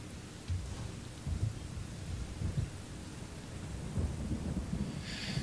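Rain and thunder in the Kingdom video game: a steady, dense wash of rainfall with low rolling rumbles swelling now and then, no voices present.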